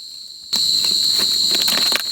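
A male cricket starts chirping abruptly, a loud, steady high-pitched trill very close by, continuing without pause.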